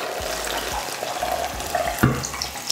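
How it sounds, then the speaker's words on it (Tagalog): Water pours and splashes steadily into a pot of mung beans, a continuous close gurgling stream with a few clunks. "kaya maglalagay na ako ng tubig."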